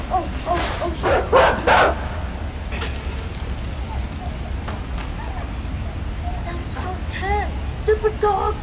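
A dog barking and yipping in a horror video game, with a cluster of sharp barks near the start, then whimpering yelps later over a steady rumbling background.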